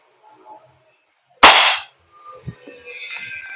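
A G&G LevAR 15 airsoft rifle fires a single sharp shot, a loud close crack that dies quickly, with soft rustling and handling noises before and after.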